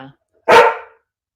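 A single sharp dog bark, loud and close, standing alone after a brief bit of faint sound.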